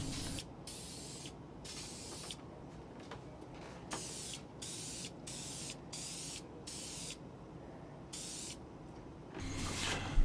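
Gloss finish coat sprayed onto a wooden foot rest in repeated short hissing bursts separated by brief pauses, moderately close, with no voices.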